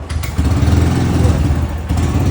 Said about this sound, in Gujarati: બાઇક ચાલુ કરવું એનો અવાજ